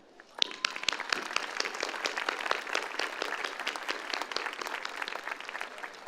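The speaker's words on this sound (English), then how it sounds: "let's give a round of applause for all of our SMCISD campus and central admin" Crowd at a high school graduation ceremony applauds school principals and administrators, clapping starting abruptly after a brief quiet moment and then building into sustained, crisp, dense applause that carries on steadily.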